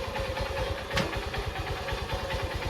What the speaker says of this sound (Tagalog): Kahit galaw-galawin pa natin, hindi na po siya na patay ang kanyang andar.